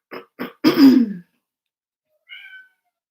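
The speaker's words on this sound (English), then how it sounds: "can hear my kitten wanting to join us." A kitten gives three short meows close by in a quiet room, two quick chirps and then a longer, louder cry, followed after a pause by a faint, thin squeak.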